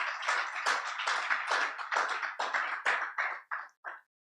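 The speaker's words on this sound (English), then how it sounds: "I would like you to please put a round of applause for them" A crowd applauds a sponsor at a live business event, steady broadband clapping that holds for several seconds, then breaks into a few fading bursts before stopping.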